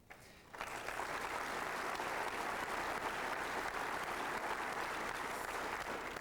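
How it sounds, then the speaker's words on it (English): A crowd applauds firefighters at a United Fire Firefighter of the Year award presentation, the clapping swelling in after a brief quiet start into a steady, dense wash of many hands that holds evenly to the end, fairly faint overall. "I think all of you deserve a round of applause"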